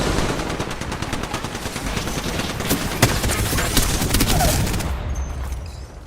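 Sustained automatic gunfire in Apex Legends rattles loudly and densely for several seconds as rapid overlapping shots, fading near the end.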